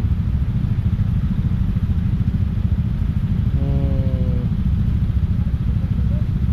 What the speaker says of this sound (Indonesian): Mesin molen.